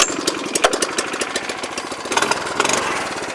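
A four-stroke MKS1000R ditch-cutting machine runs steadily nearby, its engine giving a rapid, even chugging beat with a continuous mechanical clatter and no talk.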